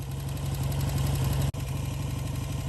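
A 1950s Ariel 650 Cyclone four-stroke motorcycle engine idles steadily with a deep, even low-end throb, cutting out for a split second midway before resuming at the same pace.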